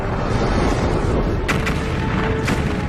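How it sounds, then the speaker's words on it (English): Supernova explosion sound effect: a deep, sustained rumbling boom fills the whole clip, with a couple of sharper blasts cracking through near the middle and end. "Just a few million years after the first stars formed, some of them exploded."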